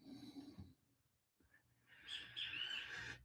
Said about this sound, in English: They're called kiskadees.